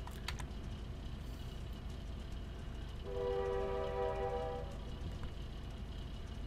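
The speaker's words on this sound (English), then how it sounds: "Oh, there's a train." Train passing in GTA 5 Online: a low rumbling rail roll runs throughout, and midway a loud sustained horn blast sounds for about a second and a half before fading back into the rolling noise.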